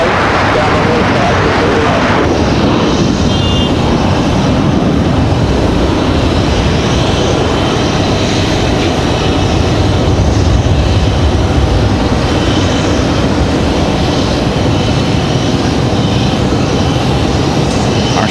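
Air Canada airliner departing toward Toronto, heard as a loud, steady broadband jet roar that fills the whole stretch, with a voice talking over it.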